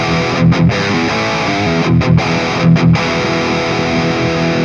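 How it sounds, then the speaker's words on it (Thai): Electric guitar played through a distorted amp-simulation preset (TankG v2 custom), thick and saturated, with chords ringing continuously and brief choppy breaks in the high end, loud and alone without voices. "ต่อมาก็จะเป็นเสียงดิสโทชันนะฮะหรือว่าเสียงไรจำลองแอมนั่นเองนะครับ"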